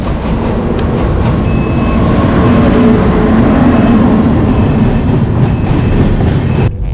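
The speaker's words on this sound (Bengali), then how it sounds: "সামনে ট্রেন।" A train passes close by a highway in West Bengal with a loud, continuous rumbling roar and rattling clatter that ends abruptly.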